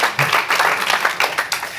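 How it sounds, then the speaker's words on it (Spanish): A church congregation breaks into loud applause, many hands clapping in a dense, uneven burst that swells and pulses for a couple of seconds. "dele un fuerte aplauso a Jesús"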